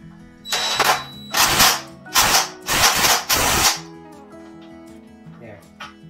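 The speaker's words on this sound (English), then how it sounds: "use this power tools to tighten it." A power drill whirs in five short, loud bursts with brief pauses between, tightening a fastener during an LG dryer drum roller repair, followed by quieter clinking and handling noise.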